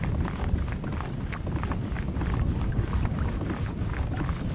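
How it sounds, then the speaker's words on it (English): Strong wind buffets a fishing boat out on the water, producing a continuous, loud, rumbling wind roar against the microphone with faint splashing underneath. "This wind is messing with me big time"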